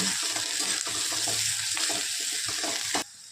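Two small onions fry in a pan for tomato chutney, a steady close hiss of sizzling with light stirring scrapes, cutting off abruptly near the end.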